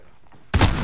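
A single marksman rifle shot in a first-person shooter video game, a sharp loud crack that hits suddenly after near silence and then rings out briefly with a broad tail.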